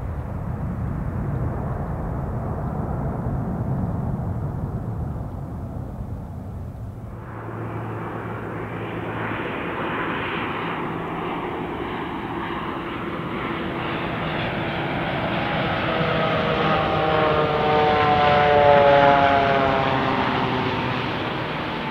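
A jet airplane takes off from Paine Field airport, a loud broadband engine roar that swells steadily and peaks near the end, heard alone from close range without any talk.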